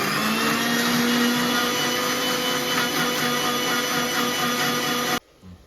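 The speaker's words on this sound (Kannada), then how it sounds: "ಸೊ ಈ ಟೊಮೆಟೊ ಏನಿರುತ್ತೆ ಅದನ್ನ ಮಿಕ್ಸಿಗೆ ಹಾಕೊಳ್ಳೋಣ" A mixer grinder whirs loudly and steadily for about five seconds as it blends roasted tomatoes into paste, then cuts off abruptly, leaving a faint clatter afterward.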